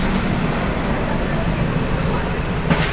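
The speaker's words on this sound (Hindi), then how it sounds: "वाटवा shade WDM-3D, Ajmer Bandra terminus express." An Ajmer Bandra Terminus Express hauled by a Vatva shed WDM-3D diesel locomotive rolls past: a loud, steady, broadband rumble and roar fills the scene without letup.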